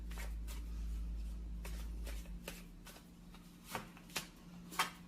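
Tarot cards shuffled at a steady rustle for a couple of seconds, followed by several distinct sharp snaps and slaps as cards are drawn and laid down, close and fairly quiet.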